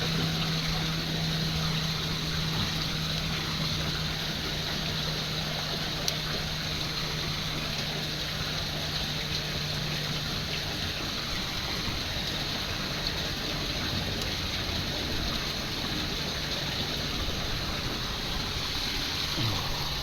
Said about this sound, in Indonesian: Kita buka keran ini untuk mengurasnya.